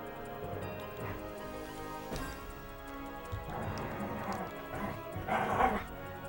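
A pet dog named Nima growls and yips while playing, low rumbling growls rising and falling nearby, with scuffling movement and a louder outburst toward the end.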